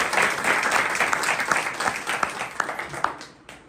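A congregation at a Christian church convention in Chhindwara breaks into loud, sustained applause with dense overlapping claps, a few sharper individual claps standing out, before it fades away near the end.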